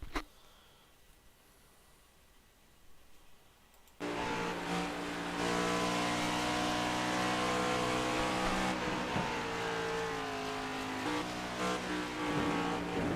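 After about four seconds of near quiet, a sim race car at Pocono roars in with a loud, steady engine drone whose pitch steps and shifts as it downshifts, alone without talk.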